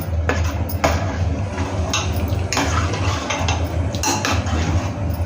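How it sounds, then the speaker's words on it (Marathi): A spoon scrapes and clinks against a pan as mashed pav bhaji vegetables are stirred together, giving irregular metallic taps and soft squelchy scraping over a low, steady background hum, with no talking. "ते आता सगळी भाजी आतमध्ये ओतली आहे, स्मॅश करून घेतलेली, आणि ती पूर्ण एकजीव करून घ्यायची"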